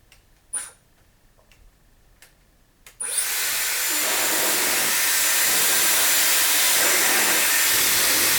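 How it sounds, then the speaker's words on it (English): A Dyson Airwrap switched on at maximum heat, a loud steady rushing blow of air starting abruptly after a few soft clicks and handling sounds, then holding constant. "This is the maximum heat, and it actually is really good. I think you really can use this as a blow dryer."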